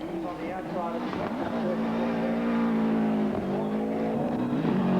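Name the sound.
Subaru Impreza rally car starting stage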